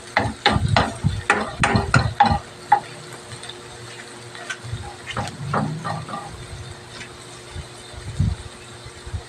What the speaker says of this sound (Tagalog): Nagisa na po natin ito ng mabuti.